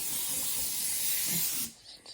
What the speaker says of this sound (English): spray this everywhere and get all the contaminants off it